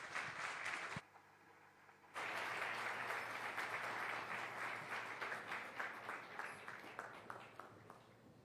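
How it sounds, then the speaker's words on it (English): An audience at an evening awards event applauds after a performance, with dense clapping that stops briefly and then resumes strongly, slowly thinning toward the end. "Please give them a huge round of applause, ladies and gentlemen."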